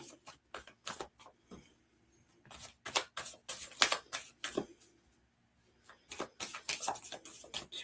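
Tarot cards shuffled by a psychic medium give a quick run of crisp riffling bursts, then a pause and another burst of rapid flicks, close and clear with no talk.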